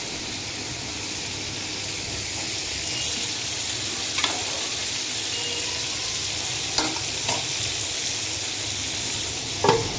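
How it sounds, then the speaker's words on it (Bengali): Fish frying in a pan for a home-cooked curry, a steady broadband sizzle throughout with a few sharp spatters and pops near the end, heard alone without talk. "মাছটা ভাজা হোক।"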